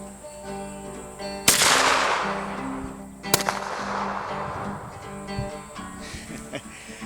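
A Turkish FedArm SS410 .410 shotgun fires a slug and buckshot at 15 yards outdoors: a loud sharp blast, then a second shot about two seconds later, each trailing off into a ringing decay.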